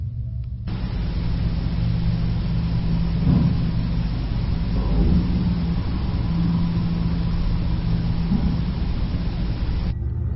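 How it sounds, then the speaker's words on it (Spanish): Street traffic rumbles on as a steady, dense wash of noise, with cars passing and motorcycle engines droning underneath and no clear single vehicle standing out. "sonidos de tráfico, se oyen coches y se oyen motocicletas"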